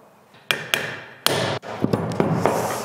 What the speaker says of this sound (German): Schön die Lager mit dem Hammer raus.